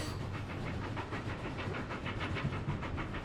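A cartoon train rolling along the tracks, its steady rhythmic clickety-clack repeating quickly over a continuous rumbling chug, moderately loud with no voices.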